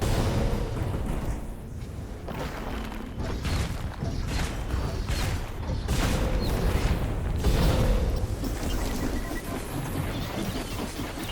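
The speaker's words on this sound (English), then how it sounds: "Bomb, it went off, that's fine." A bomb goes off in the online action game Skyforge amid combat with turrets, a dense rumbling boom and crackling burst layered over continuous loud battle noise, with no distinct pause or talk.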